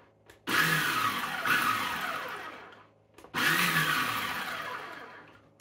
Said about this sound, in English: We're just going to do a few rough pulses to get this into a rough chopped tomato.